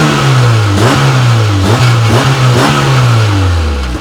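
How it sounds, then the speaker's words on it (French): A Peugeot 306 engine revs hard in a few loud, close bursts, pitch swelling and dropping between blips with no voices over it. "C'est bien, c'est des beaux coups de gaz."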